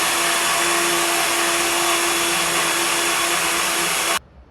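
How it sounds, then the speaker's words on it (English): Blender whirring steadily through oats and almond milk, a loud continuous motor drone with a steady whine that cuts off abruptly at the end. "All of that good stuff in the blender,"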